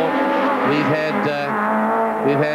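Touring race cars climb the hill at Kyalami in a 1996 South African championship round, engines screaming loud and close with rising and falling pitch as they approach and pass.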